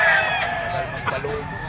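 A Lemon 84 bloodline rooster at a pet market crows loudly and close, then breaks into clucking, with faint background voices underneath.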